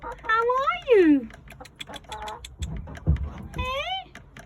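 Hens clucking and warbling close by inside a chicken house, a few rising bursts of bird calls interleaved with a person talking and imitating their clucks.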